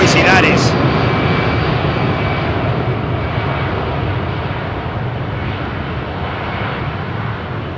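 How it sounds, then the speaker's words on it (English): An Air Belgium Boeing 747 with CFM56 engines departs Heathrow's runway 27R, its loud, close roar holding steady and only slowly easing as the jet pulls away. "Air Belgium 747. That's a CFM 56 engine, you see."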